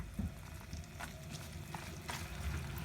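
Low, quiet sizzle of mapo tofu meat sauce frying in a pan, with a few soft clinks and stirring sounds, fairly distant and muffled.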